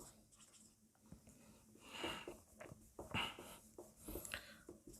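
Marker or chalk writing on a board during a Class 10 maths lesson on linear equation word problems, heard as a few short scratchy strokes, quiet and close, with no talk over them.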